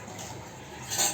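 A spoon stirs sugar into milk for falooda, giving a soft swirling scrape with a light clink against the vessel near the end, close and fairly quiet.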